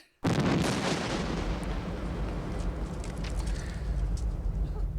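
A grenade explosion in the horror film The Lair of the White Worm erupts suddenly as a loud, close blast, then rolls on into a long, dense rumble with crackling debris that holds through to the end.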